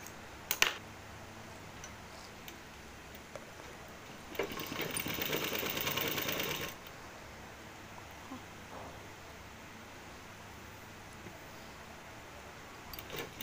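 A sewing machine stitches a kurti in a short steady burst of rapid, even whirring, fairly close and moderately loud, set between quieter stretches of handling noise.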